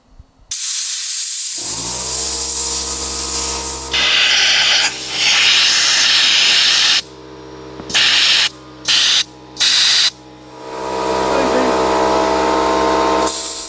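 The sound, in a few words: small air compressor blowing air through van window vents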